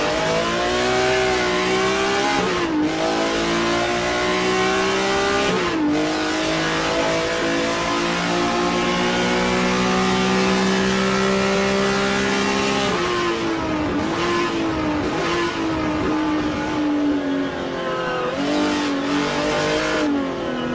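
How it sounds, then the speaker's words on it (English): The number 50 BMW M1 Group 5 race car in a racing video game screams at high revs, loud and close, with sharp upshifts and downshifts breaking the engine's note every few seconds as it laps Mid-Ohio. "Let's ride with Oliver Day in the number 50 BMW M1 Group 5"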